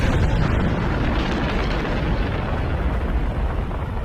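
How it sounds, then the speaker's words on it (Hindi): Mount Vesuvius erupting: a deep, continuous roaring rumble like a massive explosive eruption, loud and sustained with no break, filling the low end. "एक खतरनाक धमाके के साथ माउंट वेसुवियस का वोल्केनो फट जाता है।"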